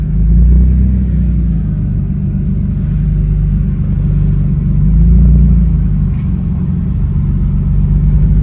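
A Toyota Supra MK4 fitted with a Tomei limited-slip differential is turning, and its deep, steady rumble and drivetrain noise swell slightly during the turn. The sound is loud and continuous with no talking.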